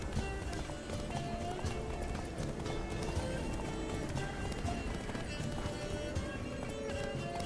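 A horse gallops in The Witcher 3: Wild Hunt, rapid rhythmic hoofbeats pounding steadily at close range alongside game music and ambience, with a brief whinny and occasional in-game voices.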